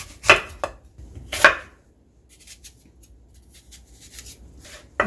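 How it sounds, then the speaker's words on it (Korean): Two crisp knife chops cut through large apples on a board, followed by softer, scattered slicing and scraping sounds. "이렇게 큼지막한 사과 3개 잘 갈리라고 이렇게 좀 썰어주고"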